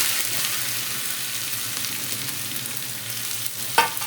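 A garlic, ginger and chili paste fries in hot oil with mustard seeds, giving a continuous close sizzle and crackle with a brief louder spatter near the end.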